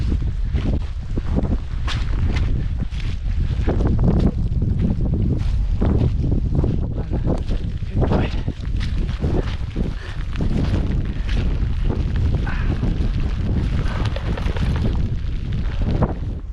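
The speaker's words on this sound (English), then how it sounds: "We've now got a wee bit of shelter from that wind, that cold northeasterly." A cold northeasterly wind blows across an exposed mountain trail near Sandwood Bay on the Cape Wrath Trail, loud and continuous, buffeting the microphone with rough, gusty roaring throughout.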